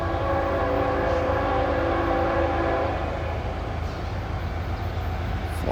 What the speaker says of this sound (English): We have a train coming.